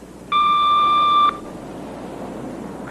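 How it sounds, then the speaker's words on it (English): An answering machine gives a single steady electronic beep lasting about a second, then falls to quiet room hiss. "Leave a message after the beep."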